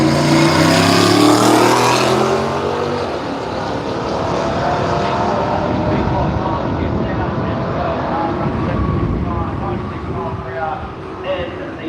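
A big Ford F100 drag racing truck roars off the line at a drag strip, loud and close at first, then a sustained engine howl that fades gradually as it runs away down the track.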